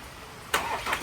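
A Ford Ranger engine cranks and fires up after a new injector has been fitted, the start bursting in loudly halfway through and settling into a steady running note with no talk.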